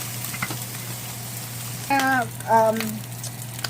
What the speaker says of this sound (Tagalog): I'm gonna grill this in a high heat